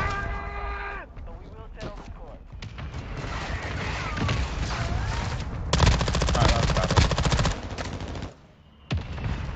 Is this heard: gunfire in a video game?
yes